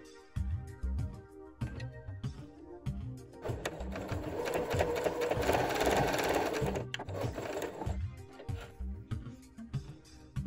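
A sewing machine with a quarter-inch quilt guide foot runs a straight patchwork seam, its fast mechanical whirring and rhythmic needle clatter rising in a sustained burst, with quieter handling clicks before and after.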